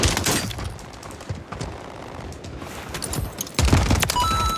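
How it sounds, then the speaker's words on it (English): Gunfire during a Fortnite Rebirth match: several bursts of rapid shots with sharp onsets, pausing briefly and then resuming loud and close near the end. "I heard gunshots over here."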